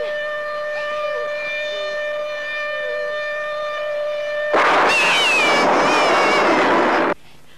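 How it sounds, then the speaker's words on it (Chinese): A wartime air raid siren holds a steady, loud wailing tone with harmonics for several seconds before a burst of noisy, rumbling sound cuts in and ends abruptly. "警报。"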